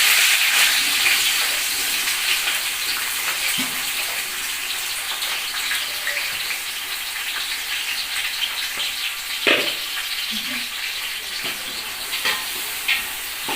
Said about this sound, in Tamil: வெங்காயம் வந்து வதங்கிட்டு இருக்கு